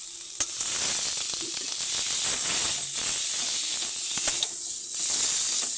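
Potatoes go into a hot pan of cooked spice paste for a vegetarian bottle-gourd kofta curry, giving a steady loud sizzle and hiss with a few clicks of utensils.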